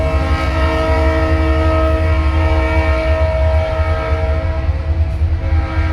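A train rumbles steadily past at close range, its deep engine roar and sustained horn-like tones filling the air throughout.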